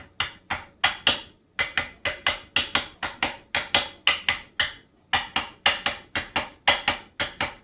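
Steady, repeated sharp hammer strikes on a plastic mechanism part, close and loud, in an even rhythm of about two to three blows per second.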